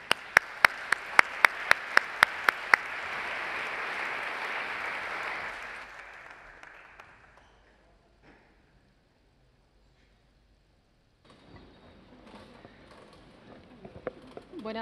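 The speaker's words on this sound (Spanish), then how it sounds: "Un aplauso para ellos." An audience at a Spanish-language book presentation on politics starts with a few sharp, separate claps, swells into a brief burst of applause, then fades into near silence before faint room sounds return.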